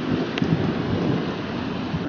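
Thunder from an approaching storm rumbles low and continuous, mixed with steady rain and a little wind, fairly loud with no voices heard.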